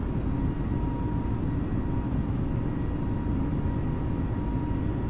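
Aircraft engines held at climb power make a steady, unbroken low roar, heard from inside the plane, even in loudness throughout with no voices.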